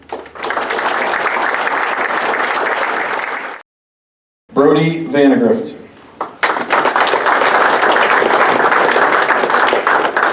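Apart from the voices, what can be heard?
audience applause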